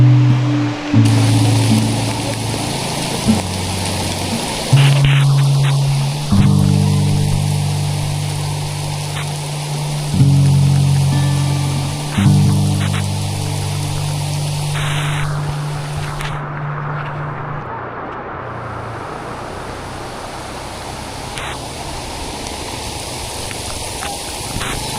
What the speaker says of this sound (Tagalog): Nabutan ako ng malakas na ulan dito